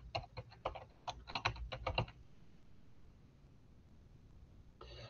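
A username and password typed on a computer keyboard: a quick burst of close, crisp key clicks, then a quiet pause and a few more clicks at the end.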